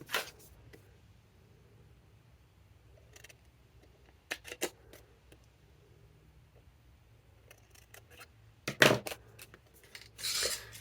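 Scissors cut out a paper popup piece for a dual side popup page, heard as sparse, crisp snips spread across a quiet stretch, close by, with a faster cluster of cuts near the end.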